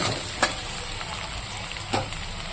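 Potatoes and spice masala sizzle steadily in a pan, a continuous frying hiss with two brief stirring scrapes, close and moderately loud, with no talking.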